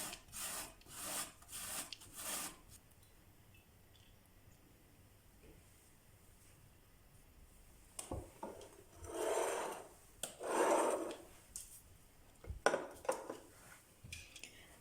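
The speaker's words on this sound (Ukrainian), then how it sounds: "Морку натираємо на дрібненькій терці." Rhythmic rasping strokes of a carrot rubbed on a fine grater, a few quick passes, a pause, then more irregular scraping bursts close by.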